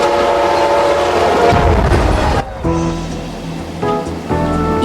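A Metrolink double-deck commuter train rumbles past nearby with a loud rushing roar, then a horn sounds in sustained blasts as it passes.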